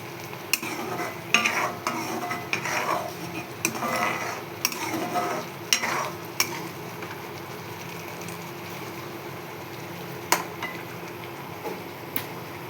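A sweet mixture with crushed cardamom boils and bubbles in a pan, giving steady close-up bubbling with scattered clicks and stirring scrapes, no voices.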